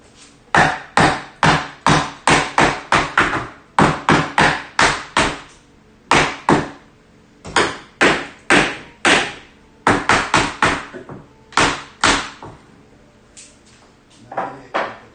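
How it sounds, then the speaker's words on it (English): A hammer strikes something being fixed in place, delivering sharp, loud, close blows in quick bursts of several hits separated by short pauses, with no talking. "That actually might just work if I just hammer that in there and then we just drill in there."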